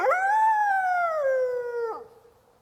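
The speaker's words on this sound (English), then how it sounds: "Here's a single red wolf howl for comparison." A lone red wolf howl: one sustained, rising-then-falling tonal call with rich harmonics, loud and clear, dropping off sharply near the end with no other sounds.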